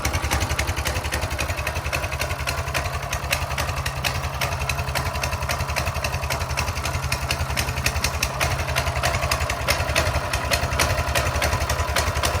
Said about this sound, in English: It's a 4-stroke overhead valve engine.